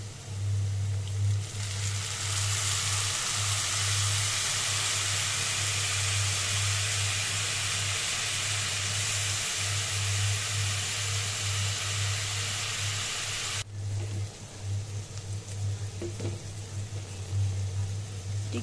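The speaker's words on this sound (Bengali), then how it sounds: "আমি এটা এবার এই ভাজা পেঁয়াজটার মধ্যে দিয়ে দিব।" Spice paste loosened with water hits hot fried onions for a hilis fish head curry, a loud steady sizzling hiss that runs for most of the time, then drops away sharply to quieter stirring and background noise near the end.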